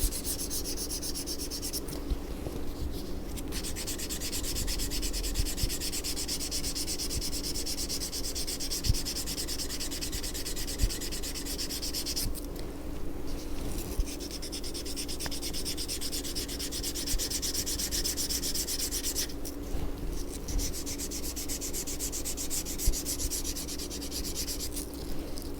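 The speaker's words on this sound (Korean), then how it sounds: "이렇게 사포질을 해주고요." Sandpaper rubbed along the cut edge of leather in a craft workshop, a close, steady scratchy rasp of repeated strokes with brief pauses between passes.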